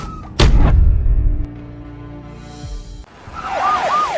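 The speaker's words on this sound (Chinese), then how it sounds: "警车在路上" Police car siren wailing in rising and falling sweeps toward the end, preceded by a loud thump and rumbling noise; the siren is moderately loud and sounds somewhat distant.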